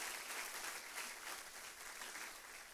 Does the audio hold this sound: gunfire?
no